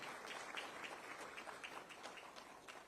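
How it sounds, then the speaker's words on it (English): Audience applause at a government business reform event, a faint, distant patter of many hands clapping steadily throughout without speech. "a big round of applause for Honorable FM"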